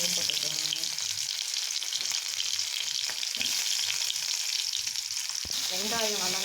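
Onions frying in hot oil with popped mustard seeds, cinnamon and cloves for a goat head curry, a steady close sizzle throughout with occasional stirring scrapes.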